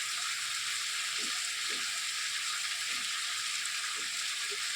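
Vegetables sizzle in a pan, most likely pointed gourd (potol), as a steady broadband hiss with a few soft stirring scrapes, close and even, with no one talking.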